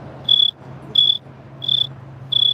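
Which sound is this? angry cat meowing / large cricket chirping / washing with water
large cricket chirping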